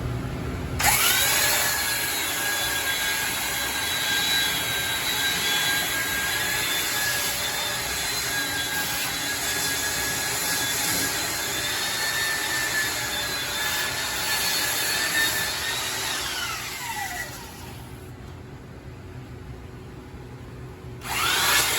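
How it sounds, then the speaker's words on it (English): A belt sander works red oak for a hope chest skirt, its loud steady whine running continuously for most of the time before winding down, then briefly starting up again. "I may have to get my belt sander just to make it easier on myself."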